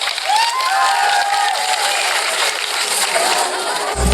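Audience applause and cheering at a school's last-bell ceremony as the first-grade class gets ready to sing, a loud, steady wash of clapping and crowd noise with some voices calling out.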